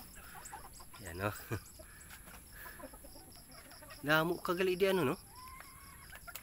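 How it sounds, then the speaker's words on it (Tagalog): Native bakulod chickens on a farm give short clucks and calls, a louder burst of clucking near the end, with brief Filipino speech in between. "Yan ang gusto ng mga mahilig sa ano manok, bakulod na manok."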